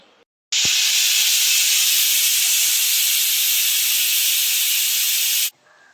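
A pressure cooker whistle releases steam while a jackfruit curry cooks. It gives one loud, continuous hiss lasting about five seconds, then cuts off abruptly.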